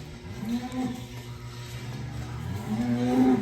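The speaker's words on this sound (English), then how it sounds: "there are a lot of good milk cows on here ready to go" Dairy cows low inside a barn, a steady, close, drawn-out moo that swells near the end over a busy barn backdrop, with no talking.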